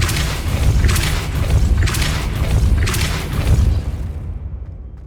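Depulso spell being cast in the Hogwarts Legacy video game, heard as a run of loud, dense booming blasts with deep rumble, several bursts in quick succession before trailing off.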